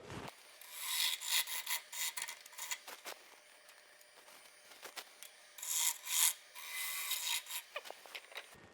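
Wood is scraped and rasped by hand as a bowl is hollowed out of a branch, in short uneven bursts of gritty scraping separated by brief pauses, close and fairly quiet.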